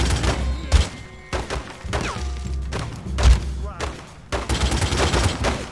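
Gunfire in The Godfather II game, rapid bursts of shots with deep thumping hits, in several volleys separated by short pauses, close and loud, with occasional talk in between.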